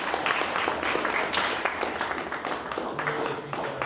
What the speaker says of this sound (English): One more round of applause for Josh.